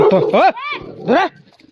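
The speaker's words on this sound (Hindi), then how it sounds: "कुत्तों में कहीं घमासान" Dogs in a remote hillside village below a forest, with growling and yelping barks in short loud bursts at close range, sounding like an aggressive squabble.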